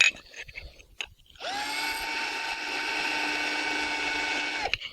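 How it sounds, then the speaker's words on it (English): A carbide twist drill bores through ceramic tile in a steady, high-pitched whine lasting about three seconds. It starts abruptly after a few light clicks and stops sharply, close and fairly loud. "this is a specially designed carbide drill that will allow you to drill through pretty much anything"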